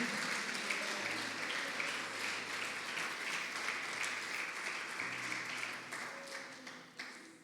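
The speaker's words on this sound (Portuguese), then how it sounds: "Aplauda o Senhor pela sua vida, pela nossa vida." A church congregation applauds in a sustained wash of clapping that holds steady for several seconds, then thins and fades near the end, with no speech over it.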